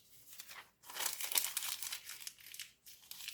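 Sheet of paper crumpled into a small ball with one hand, a close crackling, crinkling rustle in two bursts with a brief pause between, no talking.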